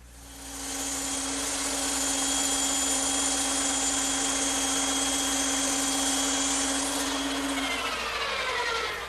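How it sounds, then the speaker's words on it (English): A bandsaw cuts curved pieces from wooden blanks for an Adirondack chair. A loud, steady high whine with a hum under it holds for about seven seconds, then the cut ends and the tone winds down, with no talking. "I'm ready to cut them on the bandsaw"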